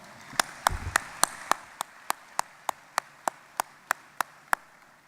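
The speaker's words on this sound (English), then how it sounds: "Let's give Blake Wilson and the ME staff a round of applause." A conference audience at an MEC leadership event claps in a steady, even rhythm, each sharp clap clearly separated and evenly paced for about five seconds, moderately loud, with a brief low thump near the start.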